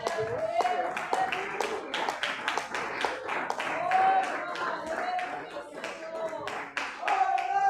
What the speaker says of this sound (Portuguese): Receba o servo do Senhor com palmas bem alegres nessa noite